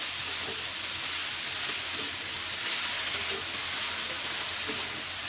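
Fenugreek leaves sizzle steadily in a hot pan while being stirred, a soft continuous hiss with faint scraping stir sounds, no talking.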